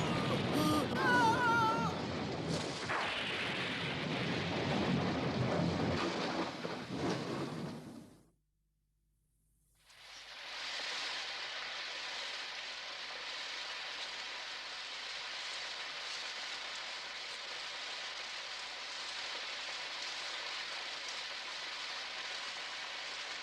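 Cartoon rain outside a cave, with music over it at first, then a short silence, then a steady, even hiss of rainfall that continues alone to the end.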